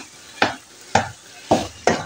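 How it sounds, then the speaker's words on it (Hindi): A spoon stirs makhana halwa in a pan, making four sharp scraping strokes at a steady rhythm, close and fairly loud, with a faint sizzle between strokes and no talking. "इसका चम्मच जो है मुसलसल आपने चलाना है इसको"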